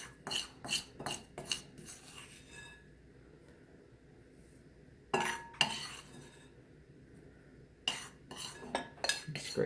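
Spoon or scraper clinking and scraping against a bowl as bath truffle crumbles are worked out, in several quick bursts of close metallic scrapes separated by a quiet gap.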